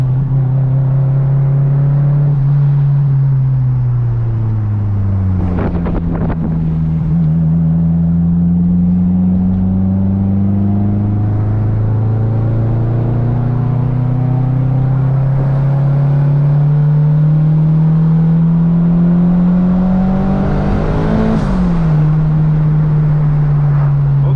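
A big-turbo Hyundai Genesis Coupe engine running on wastegate pressure revs repeatedly from idle, a loud close drone rising and falling in pitch with sharp blips, steady and dominant, no talk over it.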